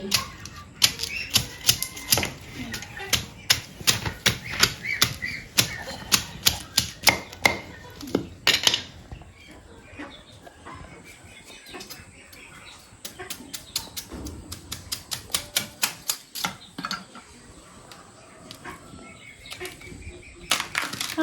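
Large sang bamboo shoots being peeled by hand in a rural hillside setting, heard as rapid bursts of crisp, close cracking and snapping strokes, a pause of quieter rustling, then another quick run of sharp clicks.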